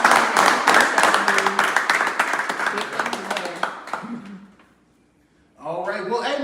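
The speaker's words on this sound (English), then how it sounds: "let's clap it up for Monica for this hard" A crowd at a youth football league event claps and cheers for Monica, loud dense applause lasting several seconds before it fades to near silence, then a voice resumes speaking.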